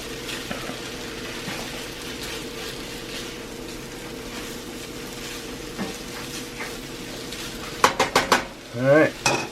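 Beef fried rice with scrambled eggs sizzles steadily in a pan while being stirred and tossed, with a few louder scraping clanks of utensil against pan near the end.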